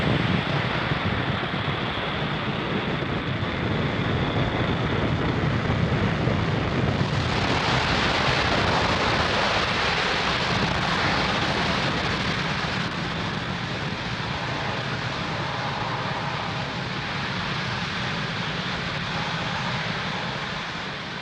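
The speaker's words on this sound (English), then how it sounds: "Falcon 9 has successfully lifted off from Pad 40 at Cape Canaveral Space Force Station" A SpaceX Falcon 9 rocket lifts off from Pad 40 at Cape Canaveral Space Force Station on a GPS III mission. Its engines give a deep, continuous crackling roar that stays loud and steady throughout, with no voices.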